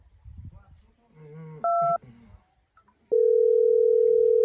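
A telephone dialing in a Gujarati comedy sketch: voices and a short burst of dual keypad tones, then a steady loud dial tone that holds to the end.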